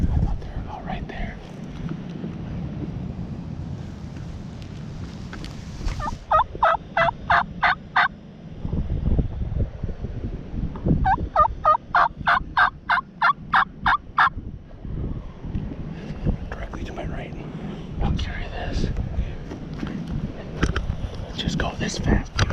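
Wild turkey gobbling outdoors during a Wisconsin turkey hunt, with two loud rapid bursts of rattling gobbles, one early and one mid-clip, and further gobbles later, while hunters whisper nearby.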